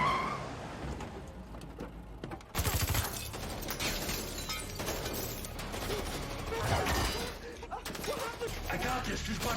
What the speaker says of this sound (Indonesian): langsung menyerang mereka dengan tembakan membabi buta